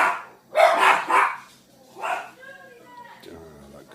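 A dog barks a few times in quick bursts, close and loud, followed by softer whining tones.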